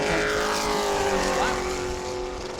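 A pro late model stock car on a qualifying lap at New Smyrna Speedway, its engine droning loud and steady with a rising and falling whine as it passes, fading slightly at the end.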